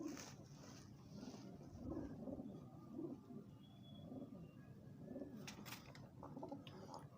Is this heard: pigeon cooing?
yes